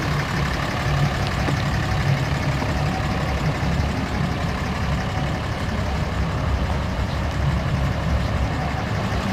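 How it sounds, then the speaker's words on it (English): A 2008 Dodge Ram 2500 pickup with a Cummins turbo diesel engine idles in a steady, even low rumble, close and constant throughout with no change in pace. "Cummins turbo diesel engine."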